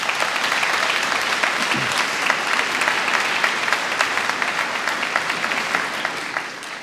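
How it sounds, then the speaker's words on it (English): Graduation ceremony audience at an Irish school gives a sustained round of applause, dense and even clapping filling the hall for several seconds. "So I would like to give a big round of applause to all those people."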